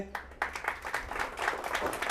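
Clapping rises among a gathered group at a community get-together, starting in scattered claps and building into steady applause, fairly faint overall.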